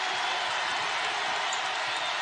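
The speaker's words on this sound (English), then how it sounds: "this pro-Cyclone crowd is loud right now" A pro-Cyclone home crowd at an Iowa State versus West Virginia college basketball game roars in a loud, sustained wash of noise, with faint commentary beneath.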